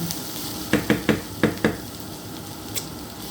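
Eggplant frying in a pan, a steady hissing sizzle overlaid by a quick run of five sharp knocks or scrapes of a utensil against the pan, then one softer tap.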